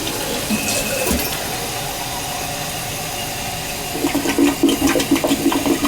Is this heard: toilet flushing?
yes